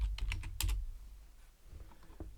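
Someone types on a computer keyboard while searching for graphics in Canva, a quick burst of close, crisp key clicks followed by a few scattered softer taps.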